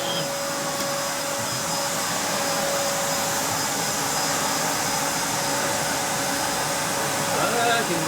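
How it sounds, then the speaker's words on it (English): A 10-amp vacuum cleaner runs at full suction with a loud, steady, unbroken roar and a high whine throughout, while people talk over it. "You actually have full suction entirely on this."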